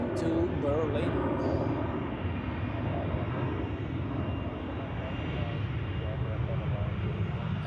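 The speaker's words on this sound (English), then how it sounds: "on the runway the EasyJet A319 to Berlin" An EasyJet Airbus A319 on the runway at Zurich Airport on a day with crosswinds, its engines giving a steady, loud, low roar that holds throughout, with a person talking over it.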